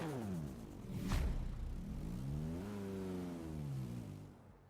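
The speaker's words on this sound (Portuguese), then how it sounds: "Sonzinho do motor do bichinho." A car engine in the video game Forza Horizon 3 on a snowy mountain revs up and down through several smooth rising and falling sweeps, loud and close with no talk.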